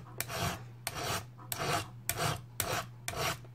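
A hand file rasps across the depth-gauge rakers of an old, worn chainsaw chain in six loud, evenly spaced strokes, each a harsh scraping sweep, close up.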